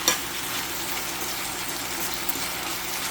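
Costco beef bulgogi sizzling loudly in a pan while being stirred, a constant close hiss of frying meat with faint scraping and no talk.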